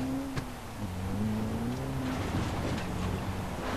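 Car engine hum in the video game Far Cry 3, a steady drone with shifting revs throughout, mixed with faint background music and no talking.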